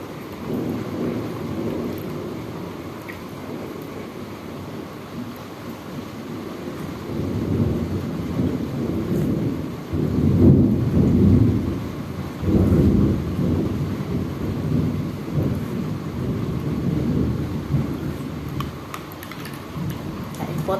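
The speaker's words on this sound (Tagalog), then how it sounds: "Dahil sa lakas ng ulan tsaka kidlat." Heavy rain pours steadily at night while thunder rolls and rumbles, swelling loud in the middle and continuing without a break.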